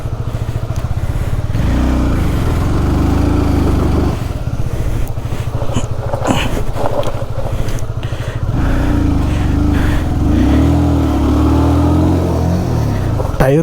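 A motorcycle on a solo ride near a waterfall revs hard with its tyre spinning, a loud, close engine whine rising and falling in surges, with brief voices mixed in.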